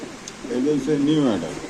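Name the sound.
pigeons cooing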